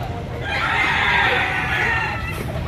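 Chickens and roosters at a crowded poultry market, a dense continuous mass of clucking and squawking that swells in the middle and eases toward the end, with a low murmur of activity underneath.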